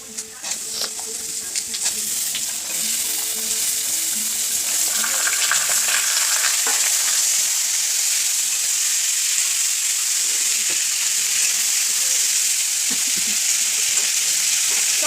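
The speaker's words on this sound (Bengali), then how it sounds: "এবার আলুগুলোকে হালকা করে একটু ভেজে নেবো।" Potatoes sizzle steadily in hot oil in a wok, cooked with cumin seeds, bay leaf, dried red chili and whole garam masala as a base for ghugni. The frying hiss is close and fills the clip continuously.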